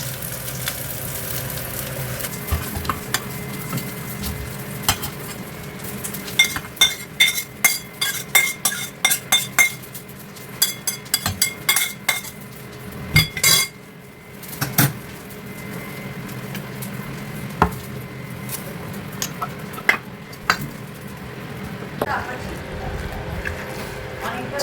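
Food frying in leftover fish oil gives a steady close sizzle throughout, broken by a run of sharp metal clinks and scraping from a utensil against the pan.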